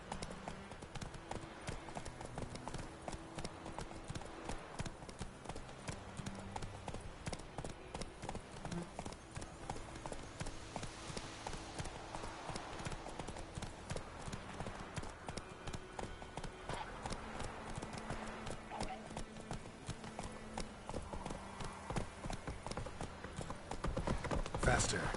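Roach, the horse in The Witcher 3 video game, clip-clops with a steady rhythmic hoof beat throughout, with someone talking over the hooves.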